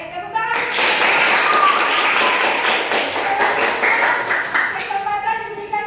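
Group applause for the visual group in an Indonesian teacher-training session: a thick burst of many hands clapping lasting about four seconds, with a voice talking just before and after it.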